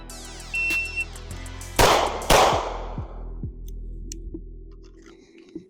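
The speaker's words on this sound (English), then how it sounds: "Two shots, two different targets." An airsoft pistol fires two quick shots at separate targets, two sharp close cracks less than a second apart, each with a short ringing tail, between quieter clicks and metallic ticks from the gun.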